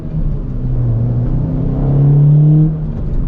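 A Toyota Corolla XRS fitted with an Injen cold air intake accelerates from inside the cabin, its engine a deep, steady drone whose pitch rises through the revs before easing off near the end.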